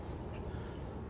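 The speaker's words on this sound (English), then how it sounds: "So it's packed with bees." Honey bees buzzing around a strong, crowded double-deep hive stacked with three honey supers, a dense continuous hum filling the air close by, steady and unbroken, with no talking.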